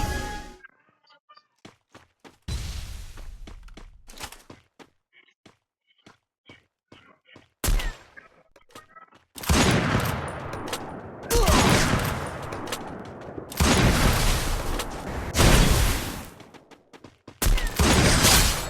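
Gunfire in a shooting video game, with a scattered run of soft distant shots followed by several loud, heavy bursts and blasts of rifle fire in the second half, including sniper shots, and brief gaps between them.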